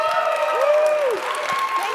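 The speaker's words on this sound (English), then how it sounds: "please give a warm round of applause for Usha Ganesh and Lucas Paratore." Conference audience at a FinOps talk gives warm applause, a steady wash of clapping with light cheering while a voice speaks over it.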